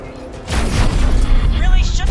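Ship weapons blasting targets on a ship's surface in the space game X4: Foundations, a loud rumbling boom that swells and keeps going with crackling impacts, under a voice speaking.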